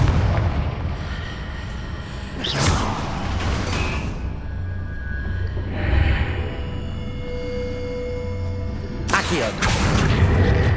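A Confringo fire blast spell bursts in Hogwarts Legacy, loud explosive booms striking twice, once early and again near the end, with a softer burst between over a steady rumbling game backdrop.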